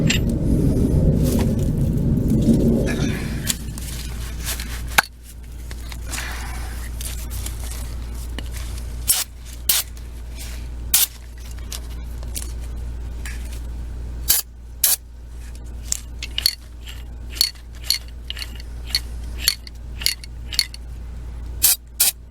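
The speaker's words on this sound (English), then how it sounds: "I'm going to put some lithium grease on there to make this a little easier." Lithium grease sprays onto a metal mechanism in one loud hissing burst of about three seconds, followed by a long run of sharp, close mechanical clicks and snaps at uneven intervals.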